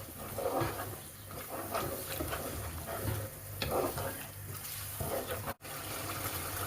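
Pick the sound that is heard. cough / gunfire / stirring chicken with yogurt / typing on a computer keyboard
stirring chicken with yogurt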